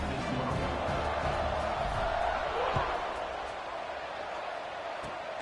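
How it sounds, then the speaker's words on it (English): Steady stadium crowd buzz at a college football game just after a score and extra point, a dense continuous roar with faint thuds, filling the whole stretch without breaks. "this crowd is buzzing after that last score"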